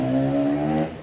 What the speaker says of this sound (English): we've got someone on a motorbike, KTM.